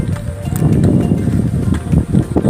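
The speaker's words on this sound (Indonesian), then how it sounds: "Suara angin" Wind gusting on the Cemoro Sewu hiking trail up Mount Lawu, a steady, buffeting low rumble that swells and dips unevenly, close to the microphone and without speech.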